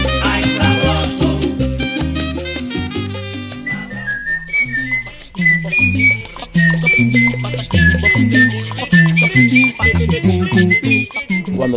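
A man whistles a lively Cuban son melody, clear and close, over a backing of guitar and percussion in an upbeat septeto arrangement, with no talking.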